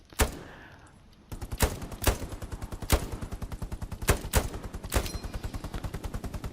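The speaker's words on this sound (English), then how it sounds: "Let's do some test shooting on this bucket now." Sniper rifle test shots at a bucket in Hell Let Loose, several sharp loud cracks spaced unevenly over a fast, steady mechanical rattle of gunfire in the background, no talking.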